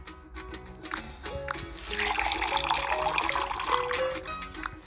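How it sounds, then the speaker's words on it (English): Orange juice pouring from a dispenser into a cup in the Burger Shop 2 diner game, a steady liquid fill sound that swells and runs for several seconds over soft game music. "you're gonna hear the sound of the orange juice actually filling up in the cup"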